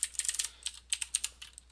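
Quick clicky keystrokes on a computer keyboard, typed in two short bursts of rapid taps separated by a brief pause, close and crisp in a quiet room.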